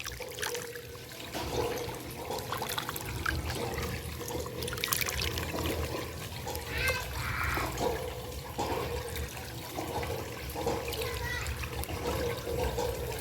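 Water gushes steadily from a countryside hand pump, a continuous rushing, splashing flow that stays loud from start to finish.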